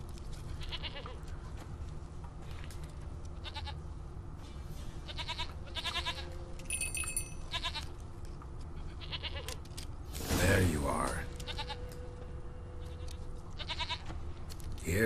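A goat bleats repeatedly in The Witcher 3, short quavering calls spaced every second or so over a steady game ambience, with a louder rustling burst midway.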